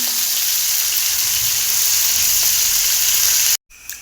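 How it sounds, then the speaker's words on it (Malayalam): Dried fish coated only in turmeric frying in hot oil: a loud, steady sizzle and crackle that runs nearly four seconds, then cuts off abruptly and returns faintly. "മഞ്ഞൾപ്പൊടി മാത്രം ചേർത്തിട്ടാണ് ഇപ്പോൾ ഒന്ന് പൊരിക്കുന്നത്"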